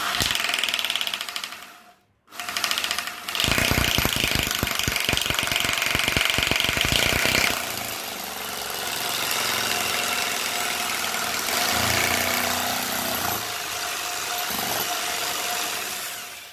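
A hammer drill bores into a kitchen wall for an RO water purifier installation, giving a loud, steady grinding roar with rapid hammering pulses that runs for several seconds, then continues as a rougher, sustained whine.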